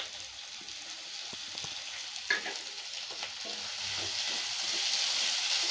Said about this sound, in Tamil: இப்போ நல்லா வதங்கிட்டு இருக்குங்க.